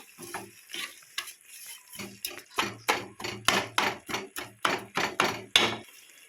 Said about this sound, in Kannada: ನೋಡಿ ಚೆನ್ನಾಗಿ ಫ್ರೈ ಆಗ್ತಿದೆ